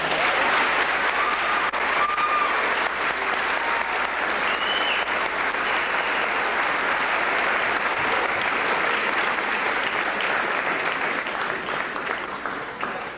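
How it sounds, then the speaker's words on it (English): Warm, sustained applause from a crowd at a high school graduation ceremony for the class of 1990, a steady wash of clapping throughout with faint whistles or voices rising briefly early on. "let's acknowledge thanks to these people with a very warm round of applause"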